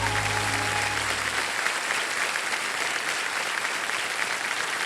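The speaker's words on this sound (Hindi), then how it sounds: "ऑलराइट, जोरदार तालियां बजा दीजिए इनके लिए।" Loud studio audience applause on a TV quiz show set, a dense steady wash of clapping that carries on throughout after a brief musical tone fades at the start.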